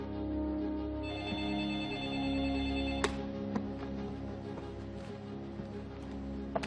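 A telephone rings indoors in an evening scene, a steady electronic trill with sustained tones over a low room hum, followed by a few sharp clicks and knocks.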